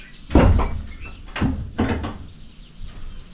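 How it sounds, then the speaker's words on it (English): A house door is pushed shut in several quick, close knocks and thuds, loud against a quiet room, with a few lighter clicks trailing after. "Let me actually close the door so that you guys can see well."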